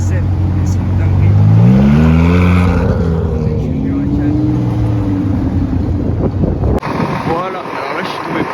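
Several supercars approach and pass in a street, their engines rising and falling in pitch as they drive by, loud and close with wind buffeting the microphone and someone talking over them.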